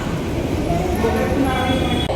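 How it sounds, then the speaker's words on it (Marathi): A loud, continuous rumble of an underground metro train, dense and close with a steady roar throughout. "हे अंडरग्राऊंड मेट्रो आहे"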